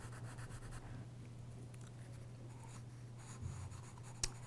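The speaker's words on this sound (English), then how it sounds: "Sometimes you need to get in there with a charcoal pencil to refine your edges a little bit more." Charcoal pencil scratches and rubs across paper, refining edges in a value study, a close, quiet run of short strokes over a low steady hum, with a sharper tap near the end.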